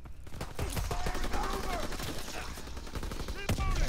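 Sustained gunfire from a World War II-era Call of Duty match, bursts of automatic fire and scattered shots overlapping with explosions and game noise throughout, fairly loud and continuous.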